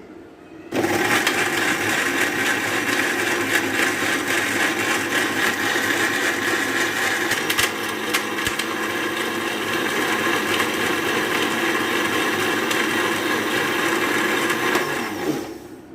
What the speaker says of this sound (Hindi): इसको तकरीबन 2 से 3 मिनट इस तरह हमने ब्लेंड करना है